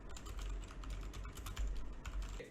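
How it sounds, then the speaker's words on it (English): Computer keyboard typing picked up by a Razer Seiren Mini microphone, a quick run of soft, close keystroke clicks with no talking. "let's try it if it will pick up the keyboard noise"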